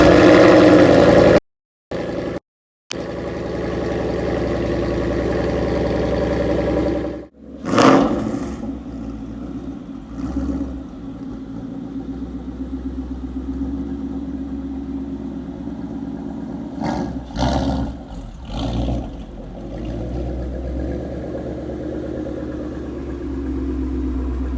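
A Ford GT350 engine idles steadily, then revs in several short bursts while driving off, the car's engine note loud and close throughout.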